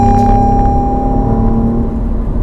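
A 2019 Alfa Romeo Giulia Quadrifoglio sweeps through a corner, its engine a loud steady drone with a sustained high whine as the car holds speed, heard from inside the cabin without talk.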